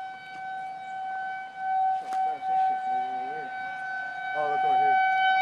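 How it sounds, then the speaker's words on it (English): Tornado sirens going off in Omaha during a line of storms hold a steady, layered wailing tone throughout, with people talking underneath. "The sirens are going"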